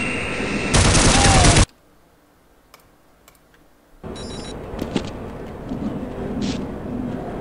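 Automated turrets in Half-Life open fire in a loud, dense burst of rapid shots. A sudden near-silence follows with faint clicks, then busy game noise with scattered sharp hits.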